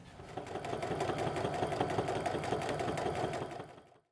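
A sewing machine stitches a fabric tube with foam inside, its needle chattering in a rapid, even run of stitches for a few seconds before slowing and stopping, close and alone.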